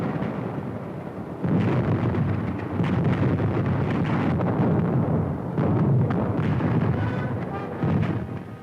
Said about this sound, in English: German guns go into action on a wide front.